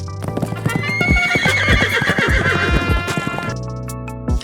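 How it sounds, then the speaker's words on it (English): A horse at a horse race whinnies loudly and close, followed by rhythmic hoofbeats clip-clopping, then a short, higher neigh near the end. "Meanwhile, Abby Saja goes to watch horse racing with friends, laughing loudly."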